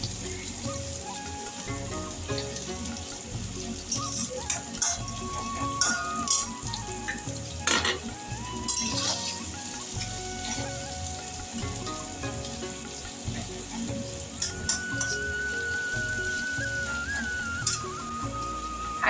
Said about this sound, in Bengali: এখন খুব ভালো করে পেঁয়াজগুলো আর রসুনটা ভাজবো।